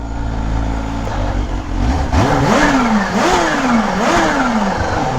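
Supercharged Kawasaki ZH2 motorcycle engine revs hard, its pitch rising and falling in three or four sharp, aggressive sweeps over a steady loud drone, heard close with no talking.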